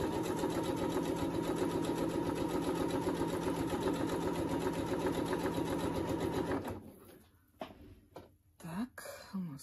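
A sewing machine stitches doll fabric with a fast, steady mechanical whir for about seven seconds, then stops, followed by quiet handling noises and a throat clearing.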